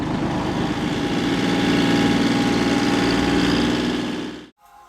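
A Lovol 354 tractor engine runs steadily with a deep, throbbing rumble, loud and close, then cuts off abruptly near the end.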